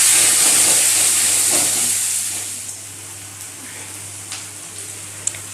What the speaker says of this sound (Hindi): अब प्याज को हम ब्राउन कलर होने तक भून लेंगे।